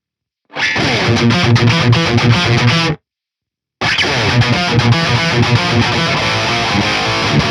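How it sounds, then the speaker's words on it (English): Electric guitar played through a Brown Sugar distortion pedal, loud thick distorted chords strummed in a dense rhythmic burst, cut off by a brief silence, then picked up again just as loud. "we have a brown sugar, which is a distortion pedal if I'm correct."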